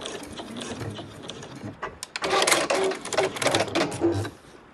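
A sewing machine runs a short back stitch on a bag's front flap, with mechanical clatter that turns into a louder burst of rapid stitching in the second half, heard close.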